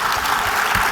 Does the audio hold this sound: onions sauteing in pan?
no